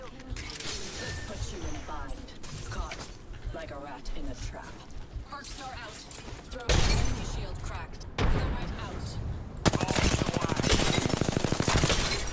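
Dense gunfire from a battle royale-style shooter game, continuous crackling volleys and rapid automatic bursts throughout, growing louder and more rhythmic toward the end, with a voice talking over it.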